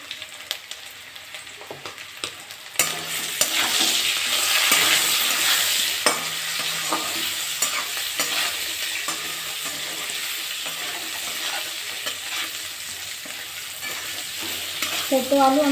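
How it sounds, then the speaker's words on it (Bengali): Small potatoes fry with salt and turmeric in a pan, a constant close sizzle that rises sharply after a quieter start, broken by occasional spoon scrapes and clinks, with no voices. "বেশিক্ষণ ভাজবো না আমি একটুখানি ভাজলাম"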